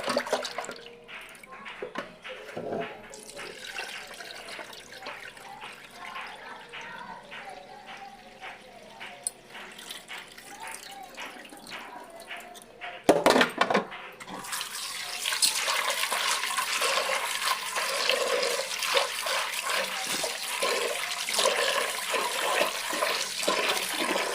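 Lentils are washed in water, with faint splashing and rubbing at first, then a sudden burst of splashing and a steady loud stream of running water, close by, with no speech.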